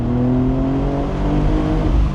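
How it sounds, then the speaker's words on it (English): A turbocharged car engine revs high in the rev range, a steady, muffled droning roar with slowly shifting pitch, close and continuous throughout. "High up in the rev range, it sounds pretty good, but being turbocharged, it's muffled like all turbocharged cars are."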